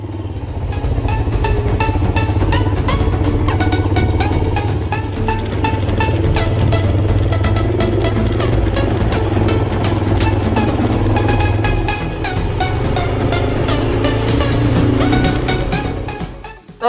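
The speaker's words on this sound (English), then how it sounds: "Hard work, these big adventure bikes." Big adventure motorcycles ridden hard on sandy dirt roads near Cape Jervis, a loud continuous engine drone with constant clattering over rough ground, close and without talk.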